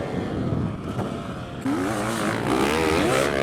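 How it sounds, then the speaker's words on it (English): A Yamaha YZ450 motocross bike on a dirt track gives a loud engine drone that rises into a higher, revving snarl partway through, heard up close. "Ruslan on his YZ450. He's digging that thing"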